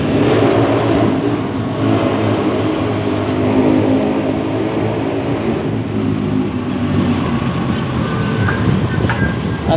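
Heavy car traffic on EDSA near SM Megamall, Shaw Boulevard and the MRT, forms a dense, continuous roar of engines and passing vehicles, close and loud throughout, with no one talking.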